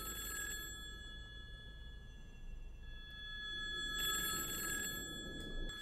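Telephone ringing in a 360° horror scene: two clear bursts of electronic ring over a low, dark background hum, with no voices.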